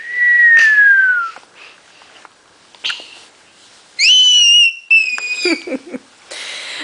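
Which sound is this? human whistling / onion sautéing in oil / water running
human whistling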